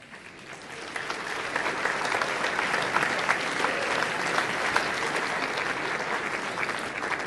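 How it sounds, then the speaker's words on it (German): An audience at a talk breaks into clapping that swells within the first second and then holds as a steady, moderately distant wash of many hands. "Also ihr klatscht."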